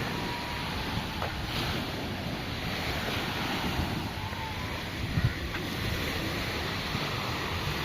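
Sea waves and wind at East Coast Park beach in Singapore make a continuous broadband wash of surf and gusty wind noise at an even level, with no clear voices.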